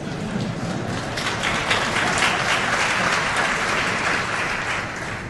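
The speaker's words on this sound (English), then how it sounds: "You can applaud if you want to, you don't have to." Audience applause at a big data technology keynote, a broad dense clapping wash that stays steady and loud, swelling slightly midway and holding for several seconds with no voices.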